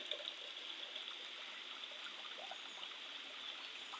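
Spring water trickles and flows steadily in a soft, continuous stream from a cow-mouth spout into a temple pool at Kedarnath, with no voices.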